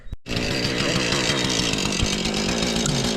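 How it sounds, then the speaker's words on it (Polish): Chainsaw started for cutting branches near power lines, heard close and loud as it roars steadily after a brief silent gap, holding a running rev with slight fluctuations throughout. "Dobra, piłę mam odpaloną."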